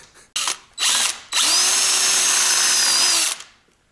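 Power drill with a quarter-inch bit boring into a Chevy Volt battery module: two short bursts, then a sustained loud whine with a steady tone lasting about two seconds before spinning down, close up, with no talking.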